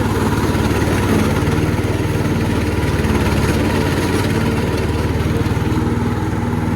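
A Jonsered lawn mower engine runs steadily at idle in a yard, a loud, even low chugging drone with a constant rhythm and no voices.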